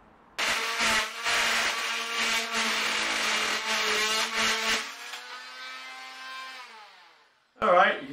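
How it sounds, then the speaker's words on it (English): An oscillating multi-tool cuts through a metal window rod while impact windows are installed on a concrete block home. A loud, steady buzzing whine with slight wavering runs for about seven seconds and then stops, followed by a brief final burst. "you're going to have to get either a hacksaw blade or an oscillating tool and you're going to cut this rod"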